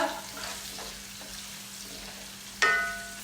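Chopped onion fries in a pan for beef bhuna khichuri, a soft, steady sizzle with light stirring scrapes, then a sharp metallic clink near the end. No one talks.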